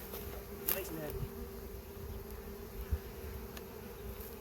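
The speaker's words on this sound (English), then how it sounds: "It's looking like 8 or 9 seams of bees in there." Honey bees in an opened hive box during early spring brood box reversal, buzzing in a steady, close drone throughout with a few brief knocks and clatters of hive equipment.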